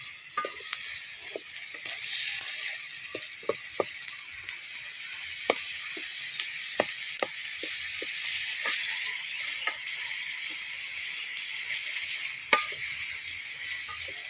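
Tomatoes added to a pan of frying mustard greens give a constant bright sizzle, broken by irregular sharp clicks and scrapes of stirring.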